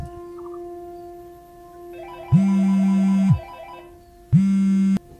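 A phone rings with an incoming call: two loud, steady electronic ring tones, the first about a second long and the second shorter after a pause, over a faint quiet hum.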